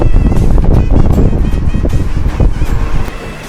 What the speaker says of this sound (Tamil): ஃபேன் ரெடி, காற்று பட்டையை கிளப்புது பாருங்க.